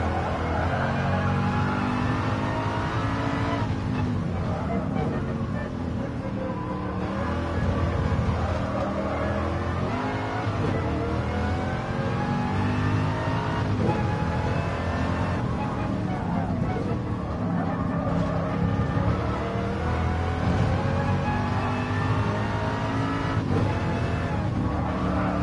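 Ford Mark IV race car engine in Gran Turismo Sport, a steady loud drone rising and falling through gear changes and corners across the whole stretch, with faint talk underneath.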